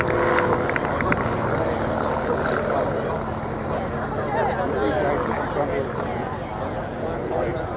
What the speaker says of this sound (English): Andy coming back in for a second low pass to finish off his sequence